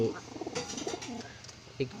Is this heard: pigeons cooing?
yes